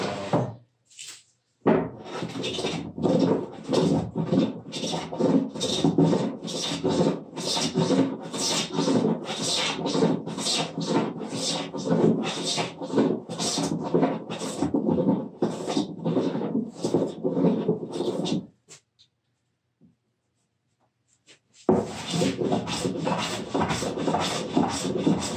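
Repeated rasping strokes of a wooden smoothing plane across a wooden board, a steady run of close, even shaves that pause briefly near the end before starting again.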